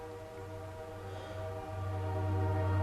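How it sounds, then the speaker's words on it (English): A train passing near an old house in Hammond, Louisiana, a steady low rumble with faint horn-like tones that grows gradually louder across the few seconds, with no talking. "but the frickin' train."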